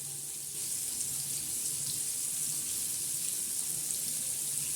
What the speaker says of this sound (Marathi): छान असे आपली मच्छी, बांगडा मच्छी तयार होत आहे, तळत आहे खरपूस अशी